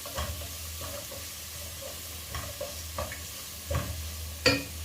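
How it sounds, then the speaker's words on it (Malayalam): Beef heart roast with fennel seeds, Kerala style, being stirred in a hot pan: a low steady sizzle with a few distinct scrapes and clacks of the spoon, the last one sharpest, close and without voices. "എല്ലാം കൂടി ഒന്ന് ഇളക്കി യോജിപ്പിച്ചു"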